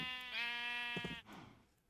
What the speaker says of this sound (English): we only care about having some sheep to make the wool, or the sheep seed